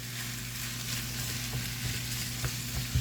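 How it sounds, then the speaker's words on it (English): Fish with a bell pepper and red onion mixture sautés in a pan for a white fish omelette, a close, continuous sizzle and crackle with a steady low hum underneath and a few soft spatula taps near the end. "we're going to go in with that fish because we're going to have to saute this on up"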